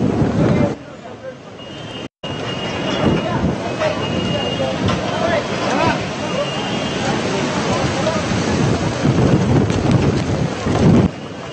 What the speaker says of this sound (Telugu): ఈదురుగాలులు వీస్తున్నాయి. ఆ ఈదురుగాలులకు భారీ వర్షం కురుస్తోంది.